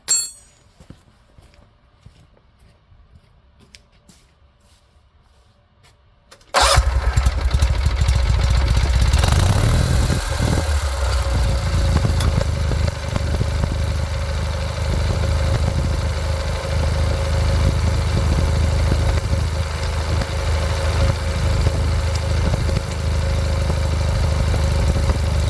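A Simplicity Sunstar garden tractor with a Kohler Magnum M20 engine cranks and fires abruptly after near silence, then settles into a loud, steady idle that runs on for about twenty seconds.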